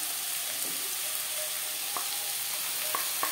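Onion, tomato and spices frying in oil for a silver carp and potato curry, a steady close hiss of sizzling with a few faint clicks of a utensil.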